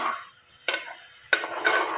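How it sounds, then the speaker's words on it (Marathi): Masala with chilli frying and being stirred in a pan, a steady soft sizzle broken by three sharp scraping stir strokes, close and alone. "हे छानपैकी आता मी फ्राय केले."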